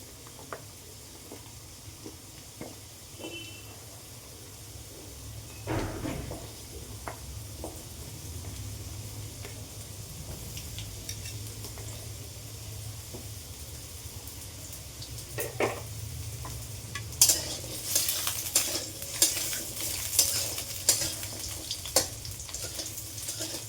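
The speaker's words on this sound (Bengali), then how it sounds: "এইবারে আমি এর মধ্যে কিন্তু আলুটা দিয়ে দিলাম। সবার ফার্স্টে আলুটা দিয়ে একটু নাড়াচাড়া করে নিতে হবে।" Potato pieces frying with black cumin in a pan for a Bengali ash gourd greens vegetable dish, a soft steady sizzle with spoon clinks and stirring scrapes that grow louder and busier toward the end, no talking.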